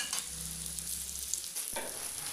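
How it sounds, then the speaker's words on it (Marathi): Close, steady sizzling of a paratha frying in oil on a hot griddle, with a low hum and a brief scrape. "कढईने असं तेल सोडून घ्यायचं,"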